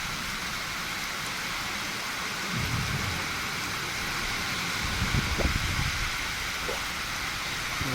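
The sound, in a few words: heavy rain with thunder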